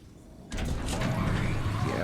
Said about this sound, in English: Let me see, does the door open?